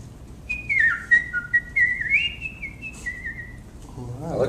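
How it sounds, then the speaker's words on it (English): A man whistles a wavering, high melodic tune alone for several seconds, close and clear, with a brief low murmur of voices at the end. "I can whistle like a madman."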